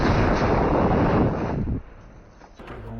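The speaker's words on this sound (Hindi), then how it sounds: "टैंक में गोला लगते ही एक बहुत बड़ा ब्लास्ट हो जाता है" A shell strikes an Israeli Merkava tank in Gaza street fighting and sets off a huge, loud, roaring blast that rumbles for nearly two seconds, then drops to a low, windy rumble.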